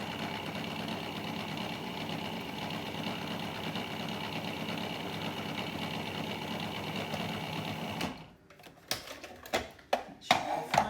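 A food processor whizzes the dry ingredients for French macarons in a steady, rattling whir that runs for about eight seconds, then stops and gives way to a few sharp knocks and clatters.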